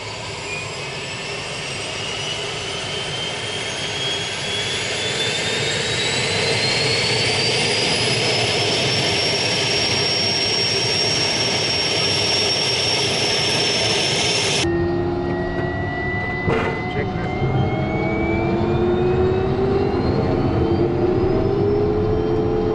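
A Pilatus PC-12 NGX turboprop spools up during engine start. Its loud, steady whine climbs in pitch as the engine winds up, heard close with no talking, and partway through it cuts to another view with a rising tone.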